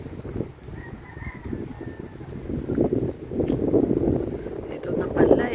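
Strong outdoor wind buffets the microphone in a continuous rumbling roar, with people talking over it and a faint rooster crow in the background.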